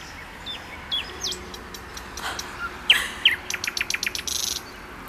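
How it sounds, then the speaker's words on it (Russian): Birds singing at night around a mosque in Grozny, with repeated chirps and short whistled calls over a steady background hum, growing into a closer run of quick tweets near the end. "А нам тут птицы поют."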